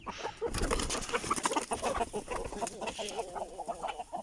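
Chickens and roosters in a coop keep up a busy stream of overlapping clucks and squawks, close and lively for a few seconds, without any talking.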